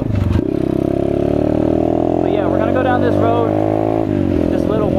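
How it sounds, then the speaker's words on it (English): A Chinese dirt bike engine runs steadily while riding on a freezing road, its tone climbing gradually as it revs, with someone talking over it throughout. "Glad I'm on a dirt bike, so it's not, it's not really a hassle."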